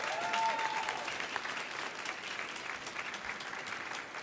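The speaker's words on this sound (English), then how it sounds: "Can we give another warm round of applause for Ari and Liz?" An indoor audience at a school performing arts festival claps warmly. The applause is dense and sustained across the whole clip, with no talking over it.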